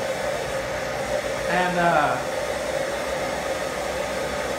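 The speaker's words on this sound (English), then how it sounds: "we're going to stick this piece in the forge and let it heat up" A forge heating a piece of titanium gives a steady, even roar like blowing air, and a brief voice cuts in near the middle.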